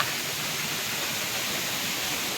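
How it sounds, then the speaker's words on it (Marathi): Continuous broadband rush of the Dhangar waterfall at Savroli near Badlapur, water falling from above, a steady even roar with no breaks, heard close and alone. "हे वरती पडतंय धबधबा"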